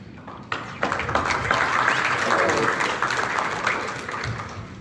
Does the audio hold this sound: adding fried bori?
no